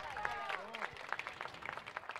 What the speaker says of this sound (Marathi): जोरदार टाळ्या दोन गायक कलाकारांसाठी.